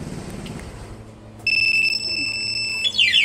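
A Yamaha Mio Gear 125 motorcycle's anti-theft alarm suddenly starts after a moment of quiet, a loud steady piercing tone that shifts into a rapid warbling siren pattern.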